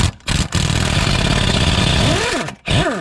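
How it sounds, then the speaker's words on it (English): A powered driver whirs in close, continuous bursts while loosening bolts on the wheel hub of a 2008 Chevy Suburban 2500, with two brief pauses and rising-falling motor pitch toward the end. "I'm going to go ahead and use an impact driver to loosen these up"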